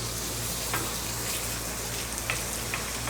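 Onions and garlic sizzle on a hot Blackstone griddle with a dense, even crackle and a few soft pops, close up, with nobody talking.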